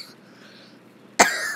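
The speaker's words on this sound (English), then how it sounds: "Cough, excuse me guys, I got coughed." A single short, sharp cough bursts out near the end after a quiet stretch, close and fairly loud.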